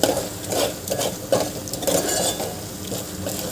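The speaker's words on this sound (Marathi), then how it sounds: "मी इथे लो टू मीडियम गॅसवर मसाला भाजून घेतलेला आहे" Masala roasting in oil over low to medium gas for a pumpkin curry, a spoon scraping and stirring in rhythmic strokes over a soft sizzle, close and moderately loud.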